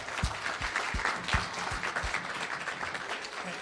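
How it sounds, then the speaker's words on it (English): Moderate applause at an association's annual general meeting for its 40-year members, a small room of people clapping steadily for a few seconds with some nearby claps standing out. "A round of applause for them nonetheless."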